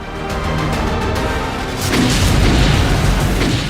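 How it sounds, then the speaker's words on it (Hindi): Explosions in Gaza, recorded in Israeli footage, make a loud, sustained rumbling boom that swells and grows heavier halfway through, with crashing bursts and no voices. "गजा में धमाकों का ये वीडियो इजराइल ने बनाया है"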